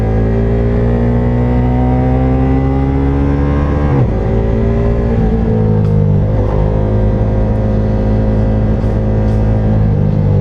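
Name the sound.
V4 cruiser motorcycle engine revving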